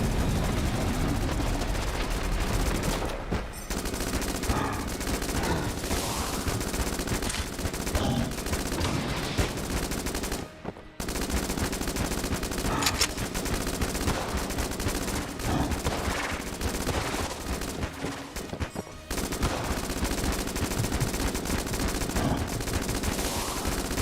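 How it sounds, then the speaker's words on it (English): Sustained rapid fire from a high drag gun in a Torghast roguelike video game, a dense, loud, relentless rattle of shots that runs almost unbroken, with only a few brief gaps. "The high drag gun."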